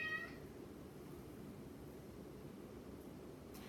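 A cat meows once, a short tonal call right at the start, then only faint steady room noise follows.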